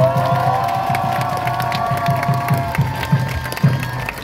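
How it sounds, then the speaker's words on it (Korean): Crowd at a protest rally applauds and cheers steadily, a dense wash of clapping and scattered shouts with music or tones sustained underneath, loud and close throughout. "다시 한번 박수 부탁드립니다."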